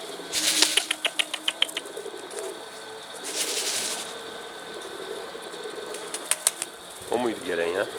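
A pigeon's wings clap and flap in quick rhythmic bursts during flight, repeating several times close by. Soft cooing and faint voices come near the end.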